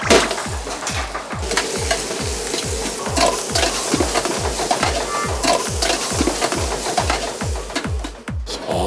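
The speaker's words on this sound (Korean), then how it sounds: "이쪽은 태국 고추를 튀기네요." Thai chilies and shrimp heads fry in a pan, a loud steady sizzle with a regular rhythmic scraping from stirring that repeats about twice a second throughout.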